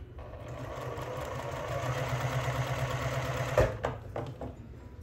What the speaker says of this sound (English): Sew up one of my wedges here.